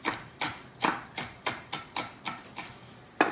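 Knife chopping cooked bacon on a cutting board, steady crisp strikes about every third of a second, close and clear, with no talking.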